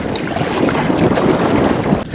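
Strong wind rushes across open water around a kayak, a loud, steady roar of gusts and lapping waves buffeting the microphone, with no voices.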